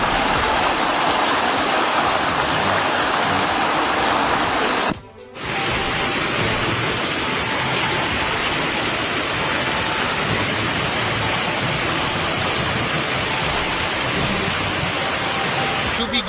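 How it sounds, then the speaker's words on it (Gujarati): Heavy downpour over a village in Upleta taluka, Gujarat, with floodwater streaming through the streets, a dense, loud roar of rain and rushing water, briefly cut off once before continuing unbroken. "ઉપલેટા તાલુકાના તલંગના ગામે ધોધમાર વરસાદ."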